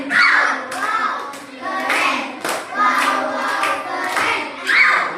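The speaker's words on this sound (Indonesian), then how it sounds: "Kita berikan tepuk wow keren." A classroom of primary-school children performs the rhythmic "tepuk wow keren" clapping chant, with bursts of claps and young voices chanting together, close and lively, with an adult voice among them.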